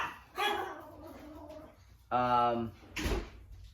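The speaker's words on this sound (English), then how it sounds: "Dog's still barking." A dog barks a few times nearby, including one longer drawn-out bark, with short gaps between the outbursts.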